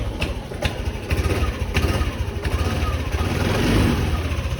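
A Yamaha Nmax 155 scooter engine runs at a steady, close idle with a rapid, even putter and faint mechanical ticking throughout.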